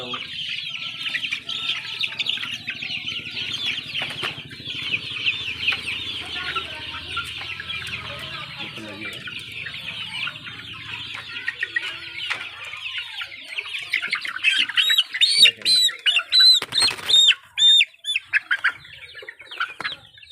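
Two-month-old native chickens on a farm cluck and squawk in a constant busy chorus, with sharper, louder squawks and a burst of flapping wings near the end.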